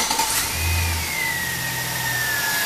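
A Chevrolet Silverado 1500 pickup's engine cranks and catches, settling into a steady low mid-pitched run with a faint whining tone above it, close and moderately loud, with no talking.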